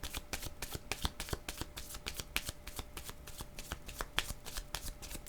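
A deck of playing cards being shuffled repeatedly, crisp riffling flutters in a steady rapid rhythm, close and fairly quiet, with no talk.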